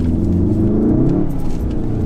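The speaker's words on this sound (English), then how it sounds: "So if I put my foot down, the front wheels are spinning" Car driven on an icy surface accelerates hard while its front wheels spin, a steady loud low rumble of engine and tyre noise throughout.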